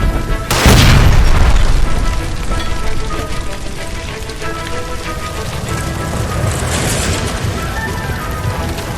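A gas line explodes in the video game L.A. Noire: a sudden loud boom bursts out close up, then gives way to a sustained roaring, crackling rumble like heavy rain or fire that carries through to the end.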